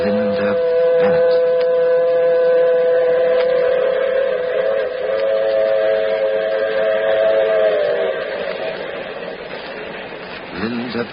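A train whistle sounds a long, sustained blast over rumbling rail noise, fading slightly toward the end.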